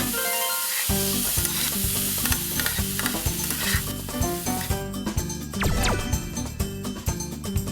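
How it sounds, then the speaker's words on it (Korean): Garlic and doenjang fry in cooking oil with a bright, continuous sizzle, punctuated by rhythmic knocks and scrapes of stirring against the pan. "그냥 식용유, 마늘 볶고 된장 넣고 끝."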